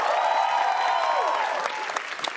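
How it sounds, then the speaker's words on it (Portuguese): Studio audience applause for Vanessa on a Brazilian TV variety show, a broad wash of clapping beneath a sustained singing or shouting voice that fades, leaving the clapping to continue with a few sharper claps. "Aplausos para a Vanessa."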